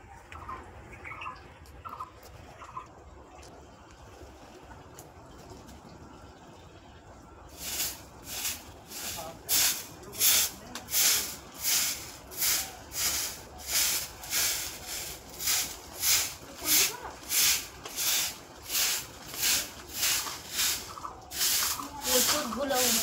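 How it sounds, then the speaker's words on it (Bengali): A broom sweeps a dusty village courtyard with a steady run of loud, rhythmic scratchy strokes, roughly two per second. A quieter stretch of ambient noise and faint birds precedes the sweeping. "এবার চলো আমি উঠোনটা ঝাড় দিয়ে দিই।"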